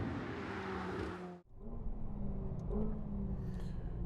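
A McLaren 750S V8 sports car accelerates hard out of a corner on a track, loud engine drone climbing in pitch, a sharp cut at a gearshift, then a renewed rising pull.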